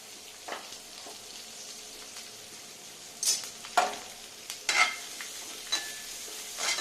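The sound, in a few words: onions, tomato, green chilli and curry leaves frying and being stirred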